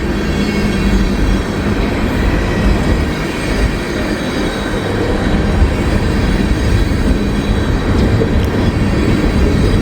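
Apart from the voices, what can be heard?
train passing by on the tracks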